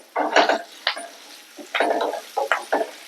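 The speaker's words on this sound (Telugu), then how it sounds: "ఈ బెండకాయల్ని మాడకుండా మధ్య మధ్యలో కలుపుకుంటూ ఫ్రై చేసుకుంటూ ఉండాలి" Okra pieces frying in a pan while being stirred, giving short bursts of scraping and sizzling in uneven clusters, close and fairly loud, with no voices.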